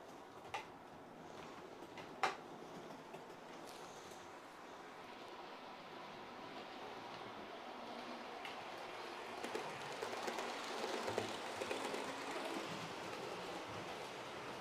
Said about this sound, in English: So we are up to 3 trains running